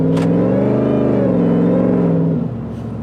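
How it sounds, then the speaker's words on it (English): Hellcat-powered Jeep Wrangler show truck with a big supercharger revving up close, a loud rising engine drone with a layered harmonic whine that holds, then drops away as the revs fall. "You hear that whine, you hear that whistle. We know it's coming from that big ass supercharger."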